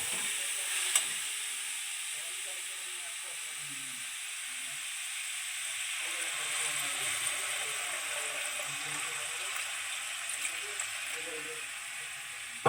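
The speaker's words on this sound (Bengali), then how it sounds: "দুধের মধ্যে গাজরটা খুব ভালোভাবে নেড়ে চেড়ে মিশিয়ে নিচ্ছি।" Ghee-fried grated carrots are stirred in milk in a pan for carrot halwa, a quiet, continuous bubbling hiss with faint scraping of the spoon, close and steady with no talk.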